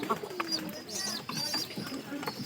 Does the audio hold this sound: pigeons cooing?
yes